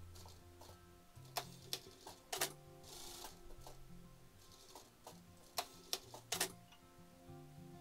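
A sewing machine topstitches pleats on the front panel of a linen blouse, running in a steady mechanical hum with rhythmic ticking and occasional louder clacks, close and alone.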